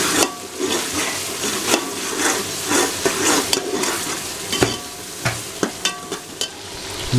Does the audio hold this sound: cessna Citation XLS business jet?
no